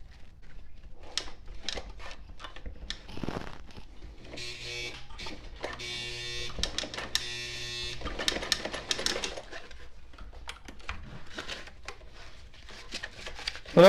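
A Sailrite Ultrafeed LS-1 sewing machine pushes slowly through six layers of 1680 denier ballistic nylon and two layers of webbing, giving a labored, uneven mechanical thumping with strained motor whine and clicks, close up.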